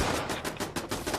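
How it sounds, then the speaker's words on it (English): Rapid automatic gunfire in Fallout 76 rattles in quick regular bursts, loud and close, with no pause across the stretch. "I hate that constant gunfire sound."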